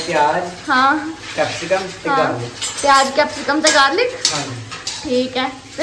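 Pots, pans and utensils clatter in a home kitchen while white sauce pasta cooks with onion, capsicum and garlic in desi ghee; intermittent metallic clanks and a faint sizzle under continuous conversation.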